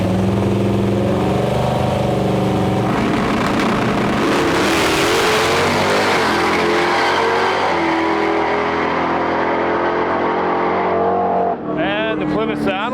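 A big supercharged Plymouth Satellite drag car at a no-prep race roars down the strip, its engine loud and building steadily in pitch before fading, with a crowd murmuring and voices beneath.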